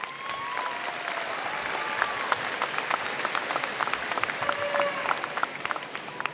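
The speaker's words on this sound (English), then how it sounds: "Let's give them a round of applause, please." Crowd applause at the Sunset High School 2014 graduation ceremony: dense, sustained clapping from a large audience with a few scattered cheers and whistles, steady throughout.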